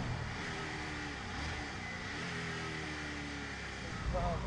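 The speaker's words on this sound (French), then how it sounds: "On met du gaz, ça envoie. Le moteur très très présent." Gumpert Apollo engine pulling hard under throttle on a circuit, heard from inside the cabin, a steady loud drone with rising harmonics and a turbo note near the end.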